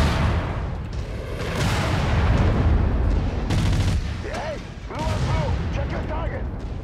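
Heavy weapons fire in a MechWarrior 5 battle against Capellan forces: loud, booming, overlapping blasts and rumbling impacts that continue throughout, with a few sharper cracks near the end.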